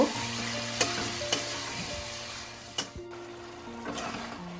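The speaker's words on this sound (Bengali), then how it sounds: "মাংসটা দিয়ে আমি আগে মাংসটা ভালো করে একটু ভেজে নেব।" Chicken pieces fry in a pan for restaurant-style lemon chicken, giving a steady close sizzle broken by a few sharp stirring scrapes and clanks, over a low, constant hum.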